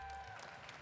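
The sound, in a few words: applause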